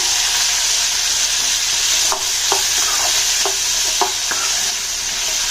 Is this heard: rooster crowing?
no